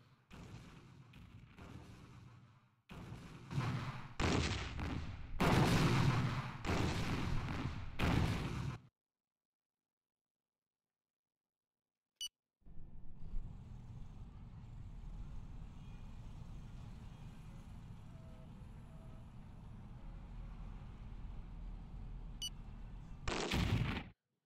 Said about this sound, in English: I'm going to launch attacks against their missile launchers because they are the biggest threat.